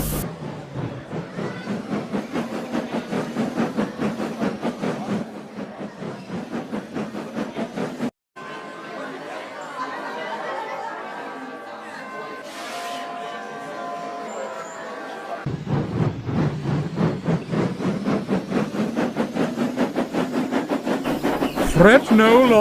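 A train rumbles along with rhythmic clickety-clack and hissing steam, a quieter stretch in the middle, then the chugging returns louder near the end.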